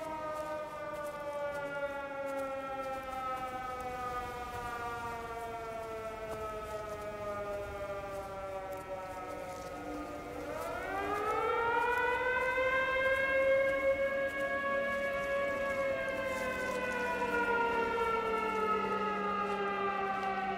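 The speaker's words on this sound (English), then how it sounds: "Oh, it's the air raid siren!" Air raid siren in the video game Everybody's Gone to the Rapture, a long wailing tone that holds steady then swoops upward midway and sustains loudly, with no talk over it.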